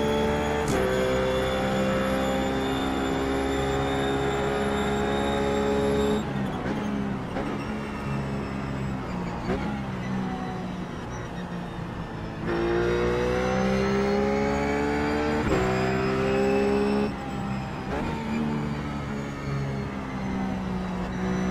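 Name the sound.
Ruf GT3 race car engine in video game iRacing at Suzuka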